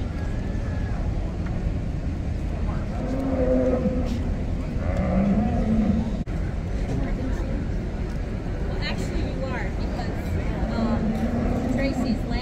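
Dairy cows at the Minnesota State Fair show moo several times in drawn-out, wavering calls, moderately close, amid a constant murmur of a crowd and a voice over a loudspeaker.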